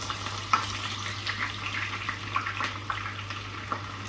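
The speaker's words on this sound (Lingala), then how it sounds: "I need to add some onion on my palm oil." Onions frying in palm oil give a steady low sizzle with scattered sharper crackles and light stirring clicks, close by and fairly quiet, with no voices.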